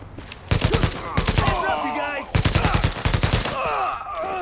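Rapid automatic gunfire bursts in The Division's Dark Zone, two long rattling volleys separated by a brief pause, loud and close, with someone speaking underneath.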